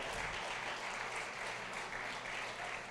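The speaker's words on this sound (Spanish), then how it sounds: "Dale un aplauso al Señor, vamos arriba." Church congregation applauding in a steady, dense wash of clapping that holds evenly throughout, fairly distant and continuous with no pause.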